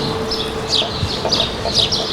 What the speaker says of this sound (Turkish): Basri Bey kuşları, e, beslediğimiz kuşlar, damızlık kuşları